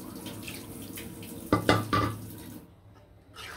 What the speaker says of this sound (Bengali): সিদ্ধ হওয়ার জন্য হালকা একটু পানি দিয়ে দিলাম।